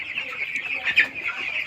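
Thirteen-day-old broiler chickens cluck close by in a farm shed, a continuous overlapping chatter of many birds with one sharper call in the middle.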